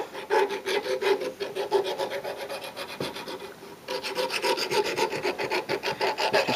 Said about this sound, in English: I'm now going to run around the drill bit with a file just to clean the metal on it.